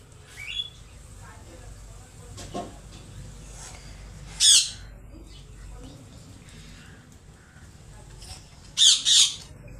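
A baby green parrot squawks in short loud bursts during walk-and-recall training, one harsh call midway and a quick double squawk near the end, over a quiet room with faint background murmurs.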